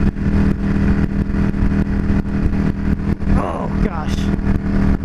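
A Yamaha V Star 650 cruiser with a rigid-looking low rear end rides at highway speed, its steady engine drone and wind rush filling the whole span while someone talks over it.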